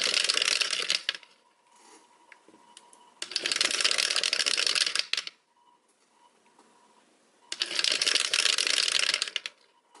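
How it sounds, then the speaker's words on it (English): Dice rattle and clatter in three separate bursts, each about two seconds long, with near-silent pauses between rolls. "I'm going to try to get a 7 on the dice"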